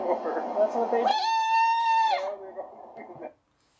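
A person imitates a disgusted goat's bleat, a strained, nasal quavering cry held for about a second, between bursts of expressive vocalizing up close.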